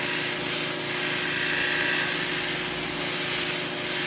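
A power-driven 220 grit buffing mop polishing a wooden intarsia box, giving a steady, close whirring hum with a faint rubbing texture and no talk.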